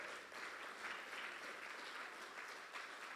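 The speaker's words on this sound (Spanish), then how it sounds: "¿Cuántos le dan un fuerte aplauso al Señor?" A church congregation claps together for the Lord, a steady, sustained wash of applause heard at some distance and fairly faint, with no voices over it.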